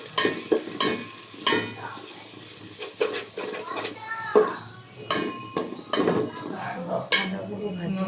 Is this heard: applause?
no